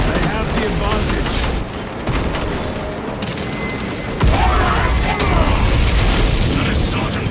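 Terminators open fire in Warhammer 40,000: Space Marine 2, a heavy barrage of booming gunfire and blasts that is loud and continuous, swelling louder partway through amid battle mechanisms, with voices faintly under the din.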